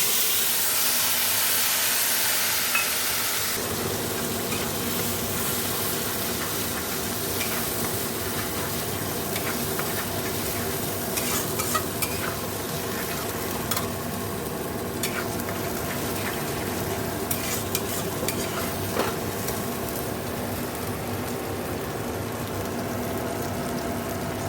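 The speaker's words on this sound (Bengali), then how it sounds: "এবার আমি গোটা গরম মশলা, জিরে, শুকনো লঙ্কা ফোড়ন দেবো।" Whole garam masala, cumin and dried chilli sizzle in hot oil with a continuous, close, loud hiss that swells as the spices hit the pan and keeps up steadily, no talk.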